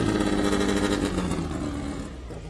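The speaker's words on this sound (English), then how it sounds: "You hear that Volkswagen power plant right there?" A Volkswagen-powered off-road race car engine at Baja 500 contingency row rumbles steadily nearby, a dense low mechanical drone that fades slightly toward the end, with no talk over it.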